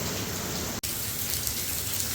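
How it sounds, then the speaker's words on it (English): Steady rain pours onto an outdoor patio in South Florida, a dense, close, continuous patter with a very brief dropout near the start, no voices heard. "it started raining here in South Florida"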